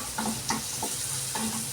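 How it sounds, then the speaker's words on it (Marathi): Turmeric, coriander powder, red chilli powder and onion-garlic masala sizzle in hot oil for a tempering, with a steady close frying hiss broken by a few soft stirring scrapes in the pan, no talking. "हळद, धणे पावडर, लाल मिरची पावडर, कांदा लसूण मसाला हे आपण आता याच्यामध्ये टाकतो आहे"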